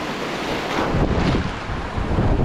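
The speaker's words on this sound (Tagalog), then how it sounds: "itong alon ang lalaki kaya laging sabit" Big sea waves surge and crash in rough monsoon-season water, heard from a boat as a loud, dense roar mixed with strong wind buffeting the microphone, continuous throughout.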